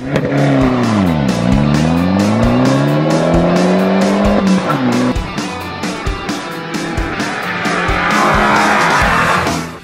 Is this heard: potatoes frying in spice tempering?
no